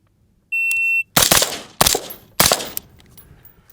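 A high electronic shot-timer beep sounds, then three loud, sharp rifle shots crack out at steady intervals, each ringing off briefly.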